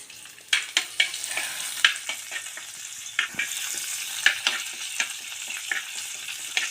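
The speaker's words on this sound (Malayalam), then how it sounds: "അപ്പോൾ കറിവേപ്പില നന്നായിട്ട് മൂത്തു." Curry leaves fry in hot oil with a bright, crackling sizzle and scattered pops and stirring scrapes, continuous and close, with no voices.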